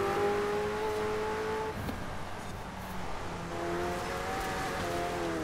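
A car in the racing game Forza Horizon 4 drives along with a steady engine drone and shifting tonal whine, rising and falling in pitch, heard alone over a constant broadband hiss.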